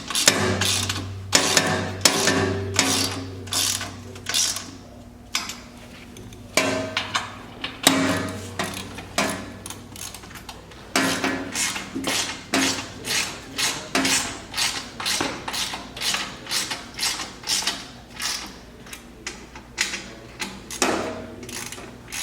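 Fasteners are tightened down with a ratcheting tool, producing long runs of rapid, close mechanical clicks broken by short pauses, with no speech.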